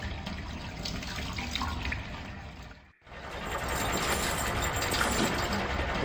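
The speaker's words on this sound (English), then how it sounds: "The pump is part of the entire water distribution system." A water pump in a video game's water distribution system gives a steady rushing, gushing flow like running water, which cuts out abruptly for a moment midway before starting again and continuing louder.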